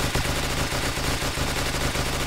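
FAMAS bullpup rifle in a Fallout 4 mod, firing in a continuous dense burst at an extremely high rate, the shots merging into a loud, steady mechanical rattle with no pauses.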